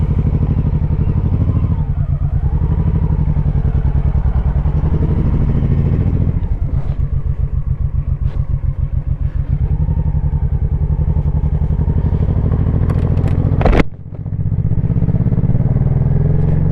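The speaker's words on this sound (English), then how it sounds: "I do shift by the sound of the engine." A Honda Shadow Sabre 1100 motorcycle is ridden, its low, throbbing engine rumbling close and continuous with pulsing shifts in tone and a sharp clunk near the end.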